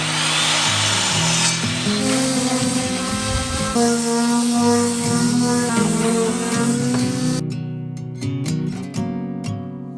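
A power saw cuts through wood boards for a bunk bed guard rail, a loud continuous grinding whine with shifting pitch for over seven seconds, then spinning down amid a few sharp clicks.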